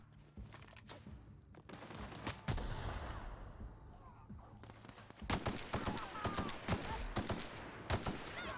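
Pistol gunfire in The Outer Worlds on PC, a run of sharp separate shots that start sparse and then come faster in clusters over low ambient game noise.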